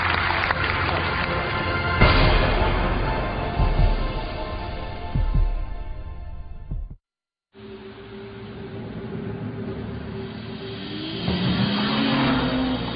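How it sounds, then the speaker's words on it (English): A BMW 3 Series engine drives with a sustained, loud roar. It cuts out briefly midway, then returns as steady driving noise with some revving toward the end. "Introducing the new BMW 3 Series, our most advanced 3 yet."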